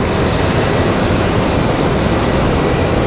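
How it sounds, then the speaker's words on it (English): American Airlines flight 2462 passing at Raleigh-Durham International Airport, a loud, steady broadband jet roar that holds constant throughout with no voices. "So, American Airlines 2462."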